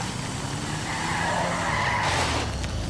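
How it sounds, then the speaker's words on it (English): A car skids through a 180-degree handbrake turn in Grand Theft Auto V, a loud, sustained tire squeal over engine roar, rising in pitch near the end. "Excellent 180 handbrake turn there, Michael"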